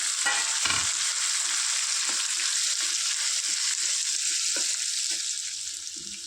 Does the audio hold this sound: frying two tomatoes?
yes